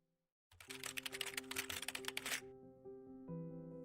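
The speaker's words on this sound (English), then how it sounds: "I will type a path to my Invoices folder" Rapid clicking on a computer keyboard as a folder path is typed, a dense burst of keystrokes for about two seconds, then a steady background hum.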